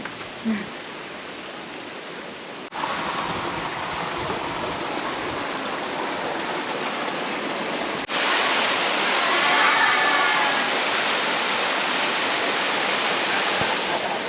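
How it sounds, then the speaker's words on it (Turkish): A waterfall in Bolivia plunges from a great height, producing a loud, steady roar of rushing water that fills the whole stretch without pause, with a couple of brief knocks near the microphone. "Evet geldik şelaleye."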